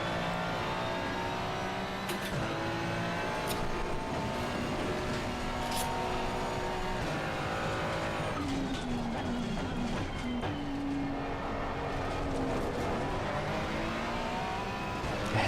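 Race cars lap the Kyalami circuit in a racing game, with a loud engine drone running throughout, rising and falling through the gears as revs climb and drop, and other cars' engines mixed in.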